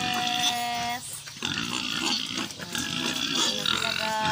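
Brown pigs grunt and squeal close by in a pen, several animals overlapping in rough bursts, with a brief quieter gap partway through.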